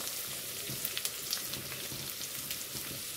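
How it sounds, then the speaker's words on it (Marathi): Onion and chili sizzle and crackle steadily in hot oil, with sharp pops scattered through the continuous frying hiss. "कांदा घातले आपण फोडणीमध्ये आणि मिरचीचे असे हे मोठे मोठे तुकडे करून घालतोय"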